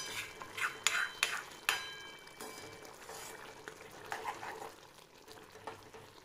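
Chicken curry bubbling in a pot as a spoon stirs it, with several sharp metallic clinks early on and then softer scraping under a faint continuous simmer.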